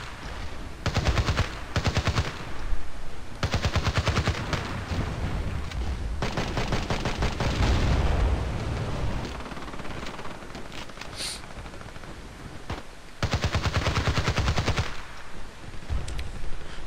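Rapid automatic gunfire from an engineer's weapon in the video game Battlefield Play4free rattles in loud, sustained bursts broken by short pauses, with no voices over it.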